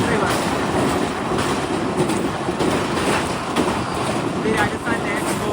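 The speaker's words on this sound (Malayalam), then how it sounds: "ട്രെയിൻ ഇപ്പോൾ മധ്യപ്രദേശിൽ നിന്ന് രാജസ്ഥാനിലേക്ക് കയറുകയാണ്." Himsagar Express running near the Chambal river as it crosses from Madhya Pradesh into Rajasthan: a steady, close, loud rolling rumble with a faint rattle of the wagons and some wind buffeting throughout.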